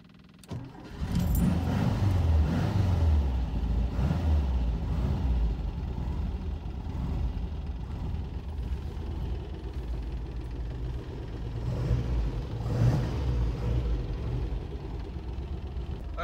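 A 1971 Porsche 914 engine starts, then idles and pulls away, a steady low rumble that stays loud and close throughout, with small mechanical rattles on top.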